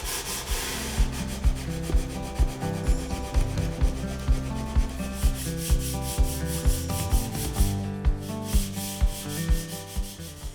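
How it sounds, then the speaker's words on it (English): Rhythmic back-and-forth sanding strokes on a wooden mid-century console stereo box, a steady scratchy rasp with regular pulses about every half second, close and alone. "I can move on to the final sanding and get ready to add the finish"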